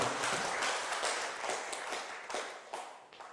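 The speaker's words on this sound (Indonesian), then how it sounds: "sangat luar biasa sekali tepuk tangan yang meriah untuk Samanera Akbar" An audience at a Buddhist talk claps for novice monk Samanera Akbar, a moderately close burst of scattered hand claps that gradually thins and tapers toward the end.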